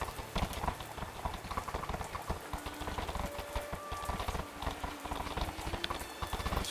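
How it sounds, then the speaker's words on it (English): Many horse hooves clip-clopping steadily in a dense, overlapping rhythm, fairly close, with a busy outdoor background and no talking. "A great deal of horse hooves can be heard from up ahead."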